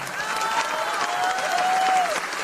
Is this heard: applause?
yes